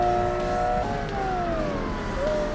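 Porsche race car engine in Forza Motorsport, an R-GT endurance championship race, a steady loud drone with shifting pitch as the car slides off track, no talk over it.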